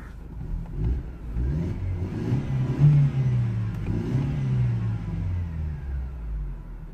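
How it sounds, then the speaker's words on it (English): Mercedes C180 Kompressor engine idling with an air flow meter fault, its low rumble rising and falling in a gentle uneven surge, heard close and alone with no talk. "So is this little bit of a sort of a surging that it does here."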